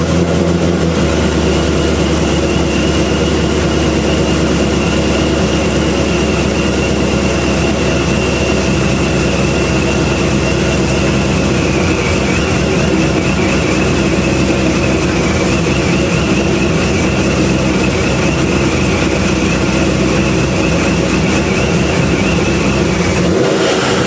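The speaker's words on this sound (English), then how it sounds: "let me fire up the car unsafely and see what it sounds like" C6 Corvette engine starting and revving with a blow off valve, a loud, steady, broadband roar of engine noise that runs continuously throughout the clip, with no talking.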